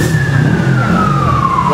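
A fire engine siren wails loud and close with a steady, slowly falling tone, as a fire truck arrives at a burning bag factory in Desa Tun Razak.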